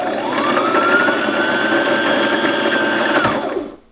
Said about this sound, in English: And this is how a bobbin is wound.